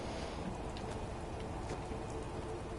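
Steady rain pours in the Fallout 4 video game on PS4, a dense, even hiss of falling drops that holds at the same level throughout with no voices over it.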